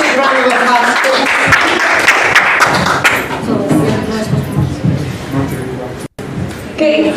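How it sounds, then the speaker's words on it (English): An audience at a bitcoin conference claps steadily and loudly for several seconds after a speaker is called to the stage, with a voice speaking over the applause and a brief gap near the end. "Big round of applause, please."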